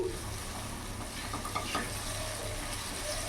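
Spice masala with chopped tomato fries in a pan over a medium gas flame for a loitta fish curry, a steady close sizzle with soft stirring scrapes and no talk.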